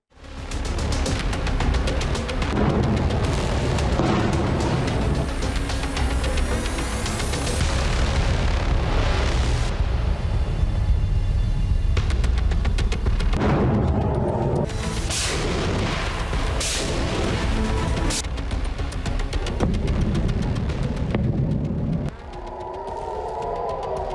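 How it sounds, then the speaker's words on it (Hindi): Heavy, continuous booming and blasting from Hezbollah missile and rocket attacks striking Israeli cities, loud rumbling explosions stacking on one another with sharp cracks throughout, no voices. "एक बार फिर उसने इजरायली शहरों को अपना मिसाइलों और रॉकेट हमले से दहला दिया है।"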